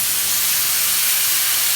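Loud, continuous hissing sizzle as citrus soy sauce hits a hot pan of browned salmon fillets, a dense steamy roar heard up close with no talking.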